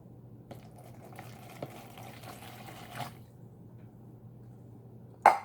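A cup of water pours into a bowl with a soft, steady trickle lasting about three seconds, followed by quiet and a sharp clink of the cup at the end, close up with no talking.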